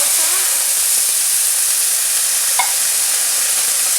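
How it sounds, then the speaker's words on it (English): Fideo noodles browning in a pan for sopa de fideo give off a steady, even frying hiss that stays loud and constant throughout, with a faint stir or clink partway through. "I'm gonna go ahead and add some fideos so they can brown up and give our soup even more flavor"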